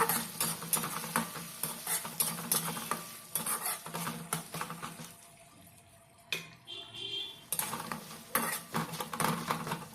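Chopped tomato and green chili frying for egg bhurji, with a soft sizzle under repeated spatula scrapes and clinks against the pan, a brief lull midway, then stirring resumes.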